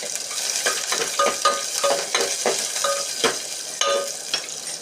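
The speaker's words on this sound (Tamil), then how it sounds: "பொறிக்கிற மீனை பொரிக்கிறேன்" Fish fries in oil, crackling and sizzling steadily in a pan with scattered sharp pops and spatters, close up and moderately loud, no voices.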